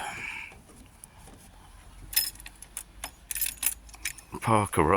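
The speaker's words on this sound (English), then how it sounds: "Take the keys out" Keys jangle as they are pulled from the ignition of a parked Suzuki GSX-F750 motorbike, a few close, light metallic clinks and rattles against a quiet background.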